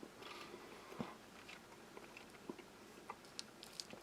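Strong sugar-free mint gum, firm and sweetened, being chewed close up: quiet, soft repeated bites and small crunchy clicks in an irregular rhythm, with no talking.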